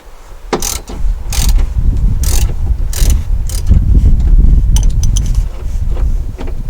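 Nuts being loosened on studs behind the dash of a 2006 Jeep Wrangler TJ: a close series of ratcheting clicks and metallic scrapes over a steady low rumble.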